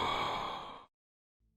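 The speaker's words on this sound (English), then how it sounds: "It was supposed to be a breathing sound for the player. This is what it sounds like." An unused player breathing sound from the Minecraft game files plays as a single breathy exhale or sigh lasting under a second, followed by silence and a faint low thump.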